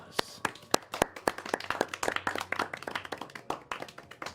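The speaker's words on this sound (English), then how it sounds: "the audience erupts in applause" A theatre audience bursts into applause for performers who tumble to the ground with a flourish, sharp individual claps ringing out close and dense, building into a steady crackle of many hands.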